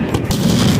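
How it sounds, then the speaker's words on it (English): Fireworks in a public display malfunction with a loud, close burst of booming crackle, a dense rumbling blast lasting under a second. "at any moment, fireworks can malfunction"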